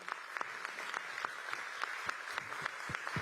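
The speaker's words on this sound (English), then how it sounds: "We can give her a bigger round of applause than that." An audience at a community event in Upper Manhattan applauds a school principal, giving a steady wash of many hands clapping at moderate volume with sharper individual claps popping out throughout.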